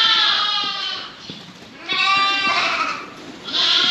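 Several goats and lambs bleat loudly and close by in overlapping bursts in wet, snowy tent quarters, with a short lull in the middle and no talking.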